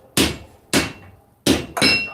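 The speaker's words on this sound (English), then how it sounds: "Lift that hammer all the way up." A hand hammer strikes hot steel on an anvil during live swordsmithing at a knife forge, four loud, close, ringing blows at a steady pace with a brief gap before the last pair, no talk over them.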